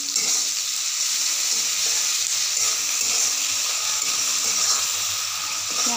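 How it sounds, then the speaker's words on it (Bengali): Onions frying with salt in a pan sizzle in a dense, steady hiss, close up and continuous, with faint stirring beneath and no voices. "পেঁয়াজটা একটু লাল লাল করে ভেজে নেব"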